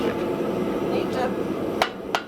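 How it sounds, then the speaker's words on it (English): Hammer blows on steel while forging down a welded part of a post vise, mostly a dense clattering workshop din with two sharp, distinct strikes near the end. "just forge this down a little."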